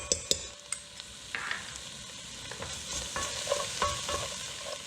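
Onions, peppers and garlic sauté in a hot pan for a shrimp and corn bisque, a constant close sizzle broken by scattered clinks and scrapes of stirring.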